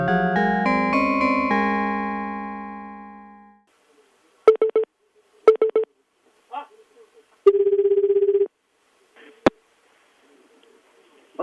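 A recorded phone call starts with a melodic chime that fades out, followed by several short bursts of telephone ringing and tones, sharp and distinct, separated by silence.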